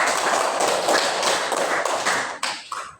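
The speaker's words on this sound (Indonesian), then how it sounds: "Tepuk tangan buat Ananda Farid" A classroom of pupils claps hands for a classmate, a quick flurry of close, crisp claps that thins out into a few scattered final claps.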